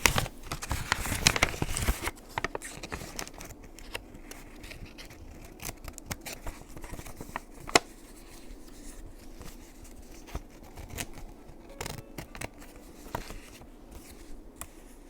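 Scissors snip the curved corner off a paper envelope in a quiet room, with a burst of close crisp cutting and rustling at the start followed by sparse faint clicks and paper handling.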